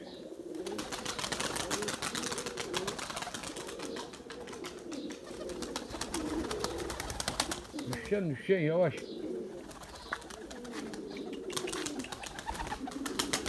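Purebred Erzurum White pigeons coo in low, rolling murmurs amid wing flutters and rustling, while a person speaks briefly close by.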